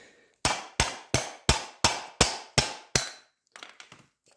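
Eight hard, evenly spaced hammer blows drive a wheel bearing out of a 2001 Honda Foreman Rubicon ATV through a length of PVC pipe, each strike a loud sharp crack, followed by a few lighter clattering knocks.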